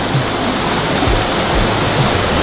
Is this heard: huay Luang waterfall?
yes